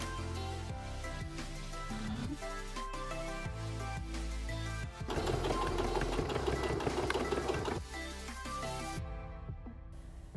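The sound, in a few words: sewing machine straight stitching fabric hat band pieces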